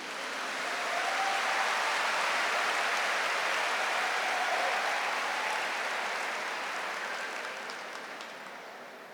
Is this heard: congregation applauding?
yes